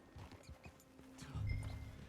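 Horse hooves clopping in Red Dead Redemption 2, a few soft, evenly spaced hoof falls close by, with a low rumble swelling partway through.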